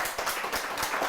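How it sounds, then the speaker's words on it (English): A short burst of audience clapping at a panel discussion, a few distinct claps audible in a quick irregular rhythm, fairly faint. "Let's give him a round of applause."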